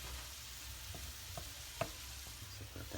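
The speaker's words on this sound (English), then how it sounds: "all I need to do is just melt it in now. So I'm just gonna stir it in." Parmesan being stirred into a gourmet mushroom risotto, a quiet, low frying hiss with a few soft spoon knocks and scrapes against the pan.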